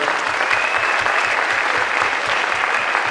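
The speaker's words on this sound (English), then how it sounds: "Can we give a round of applause for all of the performing groups that perform?" Sustained applause from a concert audience at a high school spring showcase, cheering the performing groups; dense, steady clapping fills the whole stretch at an even level, with no voices standing out.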